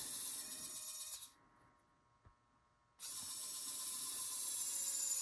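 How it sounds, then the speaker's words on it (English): A small drill boring into polymer clay whirs steadily at close range, briefly stopping for a quiet pause before starting up again with a high-pitched buzz. "I'm going to take my little drill here."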